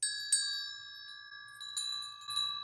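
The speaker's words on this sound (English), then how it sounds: "The next thing are 2 brass school bells." A brass school hand bell rung in a few separate strikes, each bright metallic tone ringing on and overlapping the last, close and clear.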